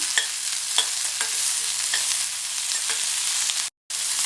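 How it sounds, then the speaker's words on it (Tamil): Chopped onion and garlic sauté in a pan for a chow chow dish, a steady close sizzle with periodic scrapes of a stirring spoon and a brief dropout near the end. "2 பெரிய பூண்டை கட் பண்ணி வச்சுருக்கேன். அதையும் சேர்த்துட்டு வதக்கிக்கலாம்."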